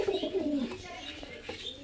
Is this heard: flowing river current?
no